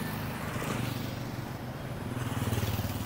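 Motorbikes rumble past on a busy street in Little India, Johor, a low pulsing engine drone that swells and fades over steady traffic noise.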